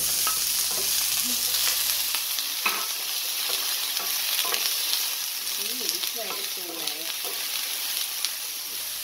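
Carrot and eggplant stir-frying in a pan for a Jamaican tofu dish produce a close, continuous sizzle with scraping stirs, and faint voice-like tones rise briefly near the end.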